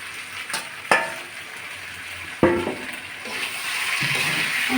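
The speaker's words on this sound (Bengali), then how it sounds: "আমি ভেজে রাখা আলুগুলো দিয়ে দিচ্ছি পটলের ভিতরে" Fried potatoes and pointed gourd sizzling in a pan with salt, turmeric and a little sugar, a continuous frying hiss broken by a few sharp clatters and scrapes of stirring.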